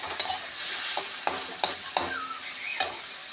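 Kalmi greens frying in a pan, a bright constant sizzle punctuated by several distinct scraping stirs at irregular intervals, close and fairly loud.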